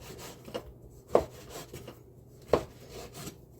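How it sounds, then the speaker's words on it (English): About two pounds of pork ribs being cut on a board, giving two sharp chopping knocks among softer rubbing and scraping strokes, close and fairly quiet, with no voices. "I'm cutting about 2 pounds of ribs here."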